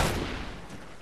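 Gunfire in the video game Call of Duty Ghosts: a dense, loud burst at the start that decays into a rumbling tail, no voices over it.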